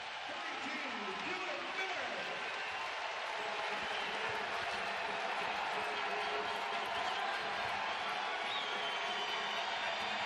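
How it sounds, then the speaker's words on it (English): A college basketball crowd at a Bison home game roars steadily for the defense, a dense, loud wall of cheering and shouting that holds without a break throughout. "Bison crowd trying to bring some energy to the defense."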